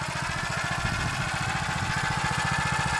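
A small tractor engine chugs steadily in a damp potato field, a close, continuous low throb with regular pulsing beats and no voices.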